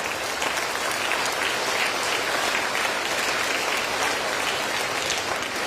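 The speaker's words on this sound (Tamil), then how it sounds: "இவ்வளவு தூரம் கைதட்டுறோம்" Sustained, dense applause from an audience at a Tamil talk on motherhood and breastfeeding, a steady wash of many hands clapping at even loudness throughout, with no speech over it.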